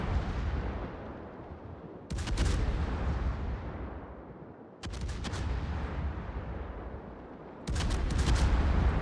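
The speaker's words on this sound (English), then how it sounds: "Rashi's shooting at the Stalingrad for free right now." Naval gunfire aimed at a Stalingrad cruiser in a World of Warships match: three loud, separate salvo bursts of heavy booms, each followed by a long fading rumble.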